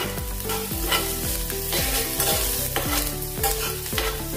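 Onions sizzle steadily as they fry in a pan for suji dosa, with occasional stirring scrapes and music playing underneath throughout.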